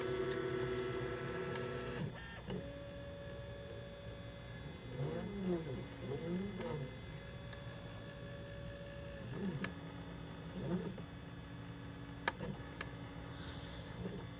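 An EasyThreeD K1 3D printer prints a first layer on a raft, its stepper motors whining and sweeping through shifting tones, with short clicks and pauses, moderately close.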